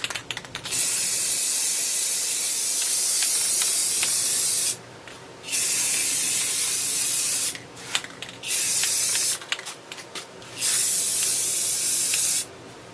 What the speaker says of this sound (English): We're all set to give it a nice clear satin spray.